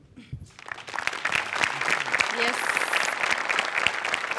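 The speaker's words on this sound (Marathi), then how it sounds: "यासाठी जोरदार टाळ्या" Studio audience applause on a Marathi comedy show stage, swelling from near silence into a dense, steady roar of many clapping hands with some voices mixed in.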